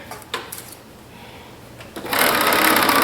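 A sewing machine runs a 5/8 inch seam on woven fabric. A few clicks and handling knocks come first, then the motor starts and hums in a steady, loud, rapid whir near the end.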